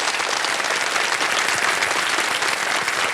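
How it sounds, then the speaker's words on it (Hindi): Studio audience on a television quiz show, Kaun Banega Crorepati, breaking into applause for a winning contestant: a thick, continuous wash of many clapping hands, loud and steady from start to finish. "ताली बज जाए इनके लिए"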